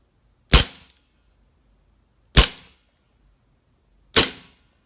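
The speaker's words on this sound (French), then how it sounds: "si on tire la dernière bille, par exemple, hop, la culasse reste arrêtée en arrière avec l'arrêteur de culasse qui est activé" Airsoft gas-powered 1911 pistol from Army Armament firing three sharp, loud cracks, each followed by the slide's quick metallic snap, spaced about two seconds apart with near silence between and no talking.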